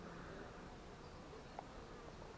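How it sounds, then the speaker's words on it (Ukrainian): A steady, low hum of many honeybees buzzing together outdoors at a hive housing a newly caught swarm, constant and moderately faint throughout, with no voices. "з другого дня починають працювати бджоли"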